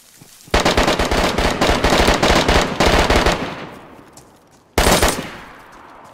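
Glock pistol gunfire in the survival game DayZ: a long, rapid string of loud, close shots fired in quick succession, a brief pause, then another burst, with echoing tails fading between volleys.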